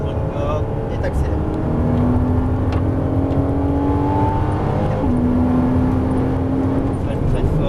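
A Porsche Cayman S engine drones and climbs in pitch as it accelerates around a race circuit, heard from inside the car with a steady loud hum, while an instructor talks over it.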